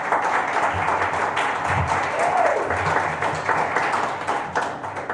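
Audience at a live radio theater show applauds steadily, a dense wash of clapping that holds for the whole stretch, with faint murmurs mixed in.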